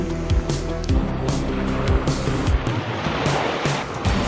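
Sea waves wash onto a tropical beach, a steady broadband surf that fills the clip at close range, with a few brief low thumps and tonal bits mixed in near the start.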